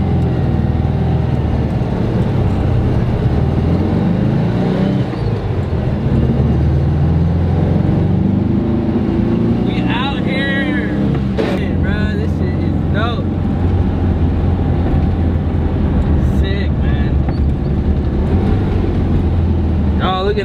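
An older four-cylinder car with front drum brakes runs steadily, with a few short rising revs during gear changes, heard from inside the cabin under continuous conversation.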